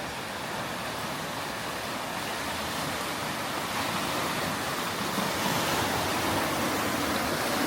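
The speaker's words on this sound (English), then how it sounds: "let us have a look at the river" A river running beside an off-grid homestead in Wales gives a steady, broad rush of flowing water, even and continuous throughout with a slight swell toward the end.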